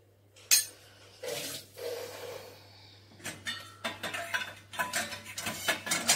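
A spoon goes into the small-items basket of a Wonderchef mini dishwasher during loading: scattered metallic clinks and plastic rattles, close and fairly soft, growing into a quicker run of knocks toward the end.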